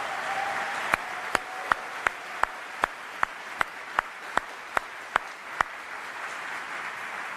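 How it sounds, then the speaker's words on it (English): A crowd applauds Michelle at a US Army retirement ceremony for General Brito, a steady, fairly distant wash of clapping with a row of sharper, evenly spaced claps punching through for several seconds, then continuing more evenly to the end. "So big round of applause for Michelle."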